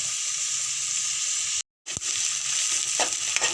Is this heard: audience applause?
no